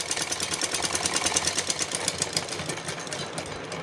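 A sewing machine runs close and steady, its rapid needle rhythm stitching fabric for a small Kanha doll dress, with no speech.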